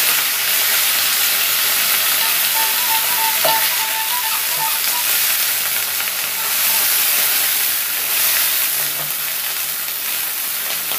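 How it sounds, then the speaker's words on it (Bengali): Water poured into a pan of fried vegetable stalks, loud steady sizzling and steaming hiss that continues throughout, near and alone without talk. "ডাটাগুলো আমার ভাজা হয়ে গেছে, এবার আমি এতে জল দিয়ে দিচ্ছি।"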